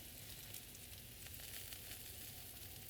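Salt-aged steak sizzling steadily on a hot griddle just after the first flip, a continuous quiet hiss and crackle with no talking.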